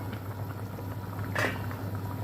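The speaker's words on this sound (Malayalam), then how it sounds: "കറിയെല്ലാം ഇവിടെ തിളച്ച് വന്നിട്ടുണ്ട്" Soft, low bubbling of Kerala-style prawn curry boiling in a pot, steady throughout with a brief splash or clink near the middle.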